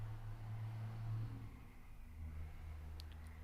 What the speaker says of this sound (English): you could hear some of the road traffic